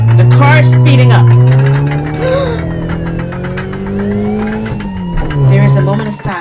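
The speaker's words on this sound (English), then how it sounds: "The car is speeding up." A car accelerates hard. Its loud engine drone climbs steadily in pitch, dips briefly as if shifting, then surges again close by.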